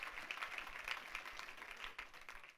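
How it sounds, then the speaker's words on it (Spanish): A church congregation bursts into applause for the King of Glory, a dense wash of many hands clapping at once, faint and distant, sustained evenly for the whole stretch. "Denle un aplauso al Rey de la Gloria conmigo"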